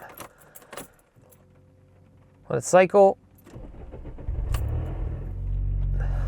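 Keys jingle, a voice speaks briefly, then an Audi A4's engine cranks and catches, settling into a low, rising rumbling idle close by.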